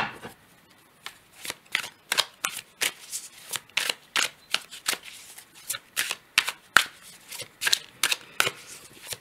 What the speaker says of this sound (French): je prends donc le tarot de Marseille. On va reprendre une carte.